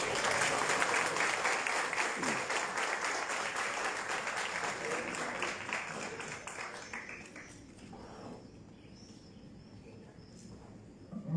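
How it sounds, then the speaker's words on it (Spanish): An audience at a municipal DIF Children's Day press event at a farm applauds steadily for several seconds, the dense clapping then thinning out and fading near the end. "para quien pido un fuerte aplauso"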